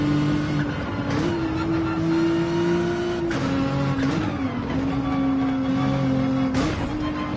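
A race car engine in Gran Turismo 7 drones steadily and loudly, its pitch shifting up and down with gear changes and brief bursts as another car flies past during an online race.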